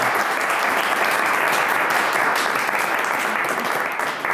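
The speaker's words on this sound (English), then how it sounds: "let's have a big round of applause." Loud, sustained applause from an audience fills the whole stretch, a dense steady wash of clapping that fades only slightly at the very end.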